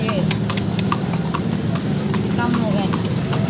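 Horse hooves clip-clop steadily at close range as a horse pulls a tonga with passengers aboard, the rhythmic hoofbeats running over constant road rumble while people talk.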